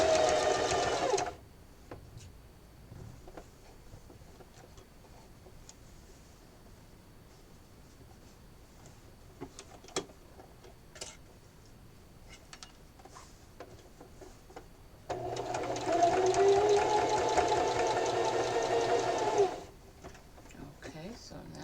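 A sewing machine stitches a seam across the top of a fabric drawstring backpack in two bursts, a short run at the start and a longer run near the end, with quiet handling noises in between.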